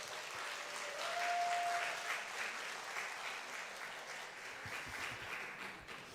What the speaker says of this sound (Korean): 우리 신 교수님 나오실 때 큰 박수로 부탁드립니다.